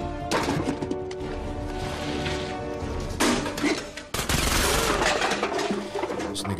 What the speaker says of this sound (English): Shots is coming out of there hella fast.